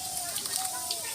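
Cumin seeds sizzle and crackle in hot oil in a pan, a brief bright hiss with scattered small pops, tempering for a Bengali dry cabbage dish while a voice speaks faintly over it.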